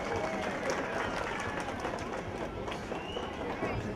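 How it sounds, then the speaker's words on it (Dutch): A crowd applauding and cheering at an outdoor Sinterklaas arrival celebration, steady dense clapping throughout with a voice calling out over it. "Applaus!"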